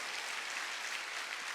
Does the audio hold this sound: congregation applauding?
yes